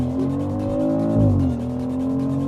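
A BMW X3 M50 with a 3-liter twin-turbo engine launches hard under launch control in sport mode, a loud close engine roar rising in pitch, dropping briefly at a shift, then climbing again.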